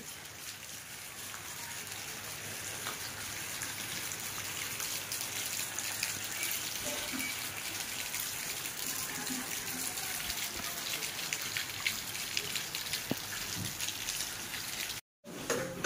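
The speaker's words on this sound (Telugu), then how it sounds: "మా సైడ్ అయితే ఫుల్ వర్షం పడుతుంది ఫ్రెండ్స్." Heavy rain pours down steadily outdoors, a dense, continuous wash of falling water that stays loud throughout, with a brief dropout near the end.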